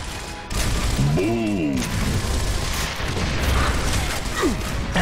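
Loud, dense combat noise from the Gears of War video game, with booming gunfire and clattering mechanical effects running throughout and a brief voice-like burst partway through.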